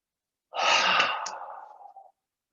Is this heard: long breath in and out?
yes